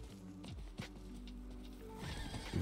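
Horse in the video game Diablo IV whinnies loudly while hooves clip-clop in a steady rhythm, with game music and ambience underneath.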